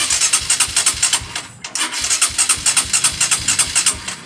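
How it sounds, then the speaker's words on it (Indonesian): A Honda Verza 150 motorcycle engine cranks and fires, its rapid pulsing starter and engine beats running loud and close, broken by a brief pause before the rhythm resumes. "coba kita nyalakan motornya"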